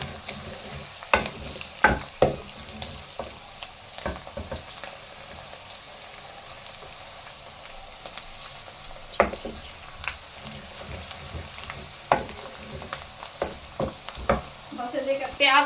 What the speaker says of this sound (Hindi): मसाले को अच्छी तरह से भून लूंगी।